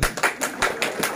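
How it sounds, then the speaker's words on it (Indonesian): A short burst of applause, several quick claps in an even rhythm, rings out in a church gathering during a sermon. "Tepuk tangan itu lagi."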